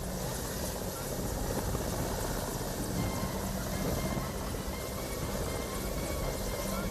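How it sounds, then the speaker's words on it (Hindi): Steady, loud rotor and engine roar of a helicopter dropping off Indian Air Force Garud commandos, a continuous close wash of noise with no pauses and no voices. "हेलीकॉप्टर से कमांडो उतर रहे थे।"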